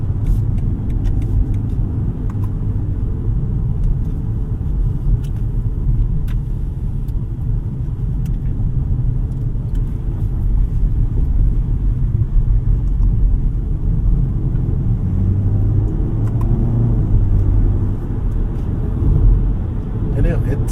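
A 2025 BMW 520i four-cylinder engine in sport mode drones steadily with road rumble underneath, a continuous low hum that holds throughout.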